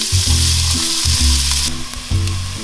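Onions sizzle steadily in hot extra virgin olive oil in a pan while a turkey bolognese is started: a loud, continuous frying crackle close up, with a low humming tone running underneath throughout.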